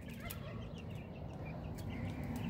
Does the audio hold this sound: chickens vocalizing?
yes